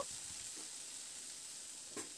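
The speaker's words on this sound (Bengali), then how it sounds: "টমেটোটা দিয়ে নাড়াচাড়া করে বেশ কিছুক্ষণ একটু ভাজা ভাজা করে নেব।" Chopped tomato sizzles and fries in a hot pan with oil, a soft steady hiss with a couple of light stirring scrapes, fairly quiet and with no talk.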